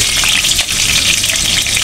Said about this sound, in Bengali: আমি কড়াইটা বসায় দিয়েছি, পেঁয়াজটা দিয়ে দিয়েছি।